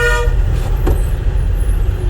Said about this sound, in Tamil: அவர் ஹாரன் அடிச்சுக்கிட்டு நான் பிரேக் பிடிச்சேன்